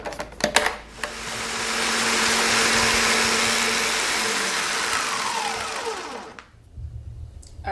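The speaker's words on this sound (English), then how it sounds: "I'm gonna pop them in the blender just to make it a little bit easier for us to make this fine powder" A blender grinds dry ramen noodles into a fine powder: a few sharp clattering knocks, then a loud whirring motor that runs for several seconds with a falling pitch before stopping abruptly.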